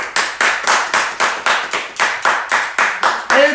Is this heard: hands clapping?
yes